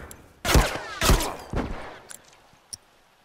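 Three heavy rifle shots boom out in The Last of Us, each about half a second apart with a ringing tail, followed by a few faint clicks and small distant reports.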